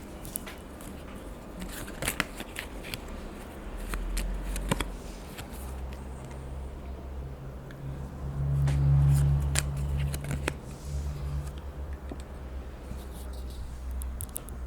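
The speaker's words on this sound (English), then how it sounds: "Let me pull an extra card here." Tarot cards shuffled and drawn by hand, with crisp close riffles, slides and snapping flicks scattered over a low rumbling background, without any talk.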